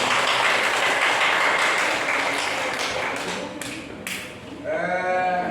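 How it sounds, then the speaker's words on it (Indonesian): A classroom of students claps for a student group after its presentation, a loud, close burst of clapping that thins out, with a few voices and shouts near the end. "Tepuk tangan untuk kelompok ini."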